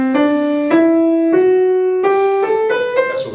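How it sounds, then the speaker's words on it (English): A Lydian mode of the major scale played as a clear rising sequence of seven sustained, close tones, each note starting sharply, alone with no talking. "That's a Lydian mode of the major scale."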